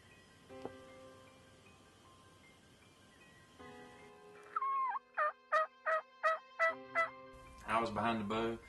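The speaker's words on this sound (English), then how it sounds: "hear like 2 or 3 different gobblers off in the distance" Wild turkey gobblers sound off at a spring dawn hunt, a rapid series of about seven sharp gobbles in quick succession, followed by a louder burst, all fairly distant over quiet woodland air.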